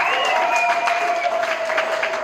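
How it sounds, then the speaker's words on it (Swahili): A church congregation applauds with steady massed clapping while a high, sustained ululating trill rises over it, several voices joining the celebratory cry across the crowd. "nisikie tena makofi vigelegele kwa ajili ya Musa"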